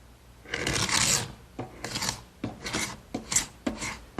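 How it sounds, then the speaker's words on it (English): An ordinary paint scraper scrapes squeezed-out glue off a glued-up oak panel in five or six short, rasping strokes, close up and separated by brief pauses. "I'm just going to use an ordinary paint scraper"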